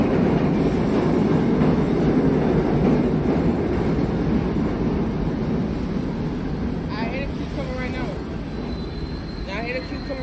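An L train pulls into the 14th Street subway station in New York, a loud continuous rumble with rail clatter and a couple of squealing brake tones near the end, crowd noise and voices mixed underneath.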